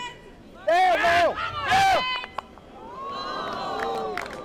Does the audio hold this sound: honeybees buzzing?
no